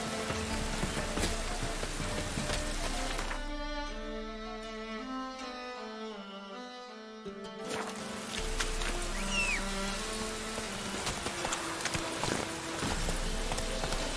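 Roach the horse gallops in The Witcher 3, hooves clip-clopping steadily in a brisk rhythm mixed with game ambience, easing into a quieter stretch in the middle before the galloping returns loud and busy.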